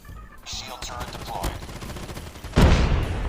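Rapid automatic gunfire from a weapon in Call of Duty Mobile rattles in close, continuous bursts, growing louder near the end, with a player talking over the shots.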